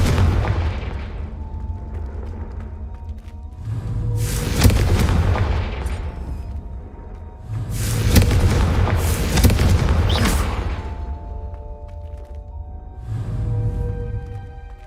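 Confringo spell explosions in the video game Hogwarts Legacy, three loud booming blasts with rumbling tails spaced a few seconds apart over a low game background.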